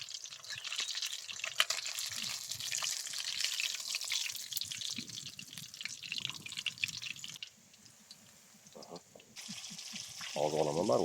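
Fish fries in a pan at an outdoor fishing spot, giving a faint, steady crackle with dripping pops, and low voices talking at times.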